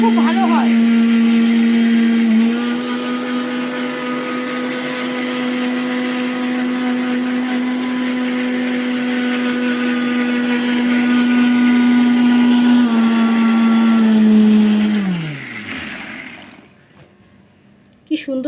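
A kitchen mixer grinder whirs loudly and steadily as it blends soaked ingredients into a paste for shahi katla, running for about fifteen seconds before it winds down and stops.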